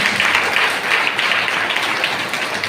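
A church congregation claps loudly together, with a dense, sustained burst of applause filling the room throughout.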